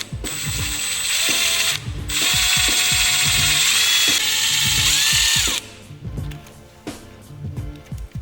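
A drill bores out bolt holes in an Evo 8 side skirt, whining loudly and steadily in several runs with brief breaks, then falling to quieter ratcheting clicks and taps.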